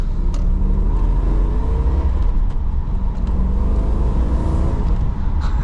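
HSV VR GTS, an Australian muscle car, accelerating, a loud, steady low engine rumble with a rising tone heard close from inside the car, with brief clicks and knocks over the drone.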